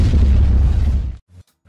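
Minecraft TNT exploding, a single loud deep boom that rumbles for about a second and then cuts off, followed by a couple of faint low thumps.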